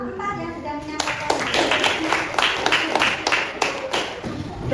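Classmates in a school lesson clap for a student group, a ragged burst of hand claps with sharp individual strikes that starts after a teacher's spoken words and trails off irregularly.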